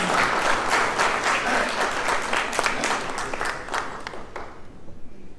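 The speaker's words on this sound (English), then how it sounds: "Let's give him a warm round of applause" Applause from an audience at a St. Vincent and the Grenadines Independence Day diplomatic reception in Taipei, a dense steady clatter of many hands that holds strong, then thins and fades toward the end.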